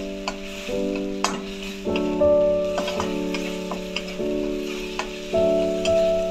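Spice paste made with ground cumin sizzles steadily in a pan while a spoon stirs it, with occasional sharp scrapes and taps against the metal over a continuous close frying hiss.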